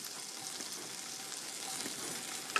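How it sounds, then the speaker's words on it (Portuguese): Slices of chorizo sizzle in a hot frying pan, a soft, steady crackling hiss close by with faint pops and a small clink near the end, no voices. "Vamos pô-los aqui na nossa frigideira que já está quentinha. Como podem ouvir, já começa a crepitar."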